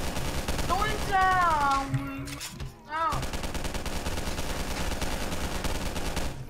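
Pistol fire during a video game boss fight, rapid shots that keep crackling steadily throughout, with a person's voice briefly talking over them near the start.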